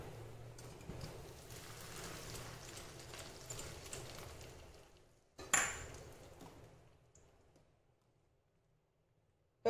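Hot almond kheer is poured from a pan into a serving vessel, giving a steady close liquid splash for several seconds, then a sharp metallic clink before the sound fades to quiet.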